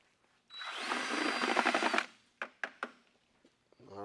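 A power drill fitted with a paddle whirs steadily as it mixes paint for a wood-tone finish, running loud for about a second and a half before stopping, followed by a few sharp knocks.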